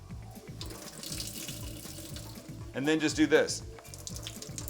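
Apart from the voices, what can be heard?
water squeezed out of cooked spinach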